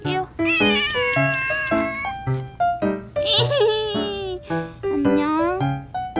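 A cat meows repeatedly in short, rising and falling calls, close and loud, with a few drawn-out wails among the bursts while people talk nearby during a walking trip in Damyang.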